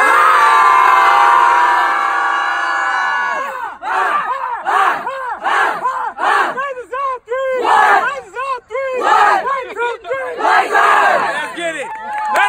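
A crowd at a high school track and field meet erupts in loud, rhythmic shouting and chanting. A sustained roar gives way to repeated bursts of many voices calling out in unison, close and energetic.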